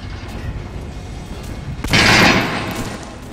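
A shotgun blast in the video game Metro Last Light, one heavy boom partway through over a dense, noisy game soundscape, fading over about a second.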